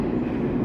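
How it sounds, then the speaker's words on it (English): A New York subway B train rumbles loudly through a station, a steady, heavy roar of rail cars passing close by with no voices. "That was the B train I was supposed to take."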